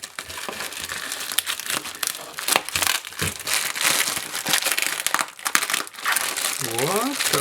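Plastic packaging on a mail-day parcel crinkles and crackles as it is torn open: dense, close, irregular crunching throughout, with a voice talking over part of it.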